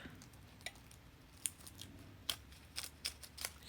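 Scissors cut out a robin appliqué shape from fabric in a series of short crisp snips, quiet and close, some coming in quick succession toward the end, with no voice.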